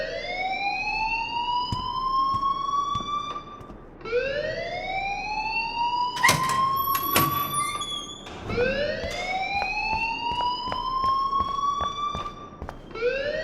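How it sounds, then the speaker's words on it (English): A school fire alarm in Life is Strange wails in rising siren sweeps, each climbing tone repeating about every four seconds, loud and steady, with a few sharp clatters partway through. "please turn off that alarm since that's your job."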